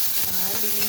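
Tomatoes sizzle and get stirred in a hot pan for squid gisado, a brief, close, steady frying hiss with a faint scrape of the spatula.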